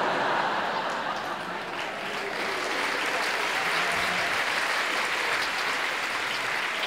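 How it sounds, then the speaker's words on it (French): An audience at a stand-up comedy show in Beaulieu claps steadily, a broad wash of applause that continues evenly and fairly loud from start to finish, with a faint chuckle mixed in. "vous pouvez bien applaudir maintenant"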